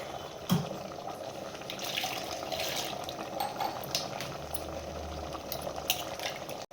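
Water is poured into finely ground masala of coriander powder and Byadagi chillies for a chicken sambar, a quiet splashing trickle with a few soft knocks of the vessel.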